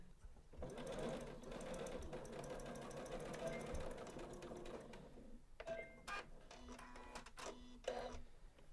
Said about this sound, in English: So let's do 1/2 inch seam allowances down one side now